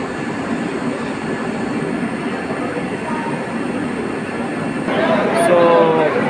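A Vande Bharat Express electric passenger train between Howrah and New Jalpaiguri rumbles along steadily with a broad, continuous roar, growing louder near the end, with a brief high squeal.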